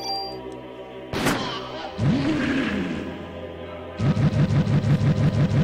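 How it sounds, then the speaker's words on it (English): A strange, ringing explosion sound effect from the PlayStation game Parasite Eve: a sharp thump, then a warbling, wobbling tone, and finally a rapid run of pulsing beats. "always such a weird explosion sound effect."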